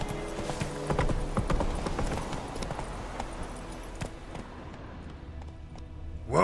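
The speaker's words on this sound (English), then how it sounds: "Whoa there, Roach" Hooves of the horse Roach clip-clop in a quick, steady rhythm during play of the video game The Witcher 3. The sound is fairly close and fades toward the end.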